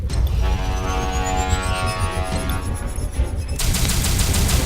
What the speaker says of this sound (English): get to the lower deck cannons and shoot everything that moves